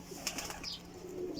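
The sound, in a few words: pigeons cooing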